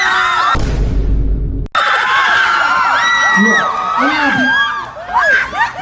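A large crowd at a concert during the Bangus Festival in the Philippines shouts and screams loudly and continuously, with high-pitched whoops and cheers rising over the din.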